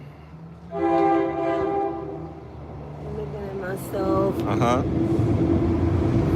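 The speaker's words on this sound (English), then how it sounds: "Let this train go by." A train rumbles past while a loud horn sounds in a short blast and then again, with people talking over the steady rolling noise.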